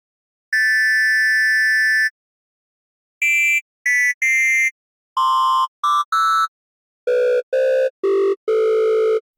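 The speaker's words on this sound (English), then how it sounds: "Our 3 octave high triangle wave has been distorted by another wave which is at the base pitch" An Oberon synthesizer's triangle wave, pitched three octaves high and phase-distorted by a second wave at the base pitch, plays a clean electronic tone sequence: one long held note, then short grouped notes stepping lower, with silent gaps between.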